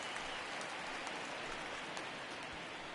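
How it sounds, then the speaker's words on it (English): Steady rain pours down over a baseball stadium in the video game MLB 19, a dense, even hiss of drops with no breaks and no voices. "we've mentioned the conditions aren't ideal with the rain"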